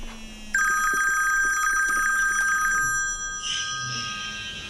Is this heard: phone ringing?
yes